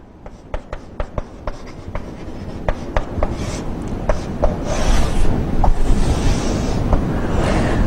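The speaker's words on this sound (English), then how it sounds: "So we have to draw a Gantt chart." A pen taps and scratches across paper while a Gantt chart is drawn for a CPU scheduling lesson, first a rhythmic series of sharp ticks, then longer rubbing strokes, close and clear with no talking.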